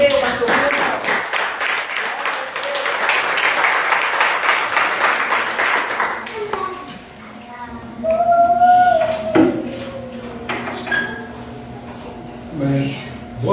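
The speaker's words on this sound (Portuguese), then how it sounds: "Vamos aplaudir a Jesus" A church audience applauds, a dense burst of many hands clapping for several seconds that fades out, followed by a voice speaking over a quieter, reverberant room with scattered noises.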